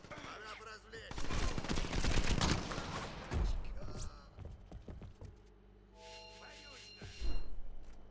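Bursts of automatic gunfire and heavier shots crackle in the Crackdown video game, loud and dense at first, then thinning into scattered blasts with a brief electronic tone and one final loud report.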